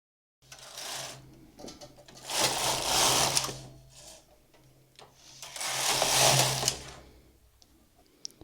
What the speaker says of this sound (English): I'm going to place all the needles in action on a ribber bed.